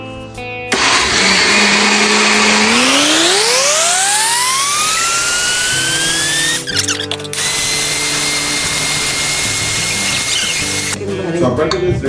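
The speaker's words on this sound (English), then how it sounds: "This is my 12-speed grind mixer. And I use high-speed grind." A 12-speed mixer grinder whines as it grinds rice at high speed, its loud motor pitch rising sharply as it spins up, then holding steady with brief interruptions.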